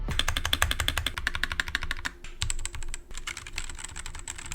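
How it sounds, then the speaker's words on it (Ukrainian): Rapid typing on a compact 60% mechanical keyboard fitted with red linear switches: dense, steady key clacks with a brief pause midway, close and alone. "До речі, ось звук тайпінгу"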